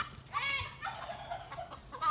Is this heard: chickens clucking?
yes